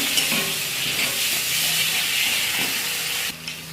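Spice paste fries over fish in a pan with a loud, dense, steady sizzling hiss up close, dropping off abruptly near the end.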